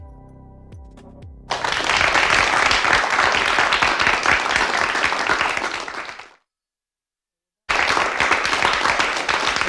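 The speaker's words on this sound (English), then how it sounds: "He doesn't know how to run the applaud machine, so he's like hitting all these buttons" Canned applause from a radio morning show's applause machine, loud and sustained broadband clapping that starts abruptly, cuts off to silence, then bursts back in again.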